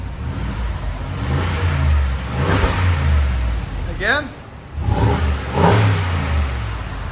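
A heavy Ford Super Duty pickup's 6.2-liter V8 revs twice, loud throaty bursts with a low idle between them; someone speaks briefly in the middle.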